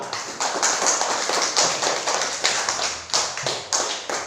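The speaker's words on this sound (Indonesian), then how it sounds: "tepuk tangan untuk kelompok 2" A classroom group is applauded with rhythmic, fairly close hand clapping in repeated bursts that keep up a steady beat for several seconds, with no talking.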